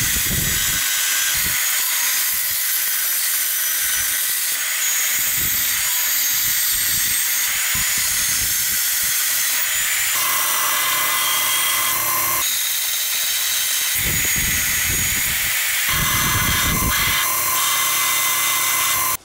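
Small piece of metal being cut with a power tool for a wastegate spring insert, a steady high-pitched whine with grinding bursts that stop and restart several times, loud and close, with no talk.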